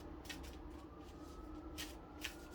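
Tarot cards are shuffled quietly nearby, with a few soft swishes and riffles over a faint background hum.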